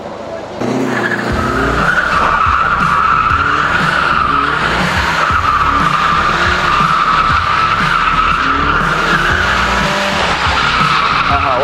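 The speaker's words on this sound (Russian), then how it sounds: "И я буду ехать как бы боком и, ну, вот, по кругу." Car drifting sideways in circles, with loud continuous tire squeal and skidding over a hard-revving engine, close and sustained for about eleven seconds.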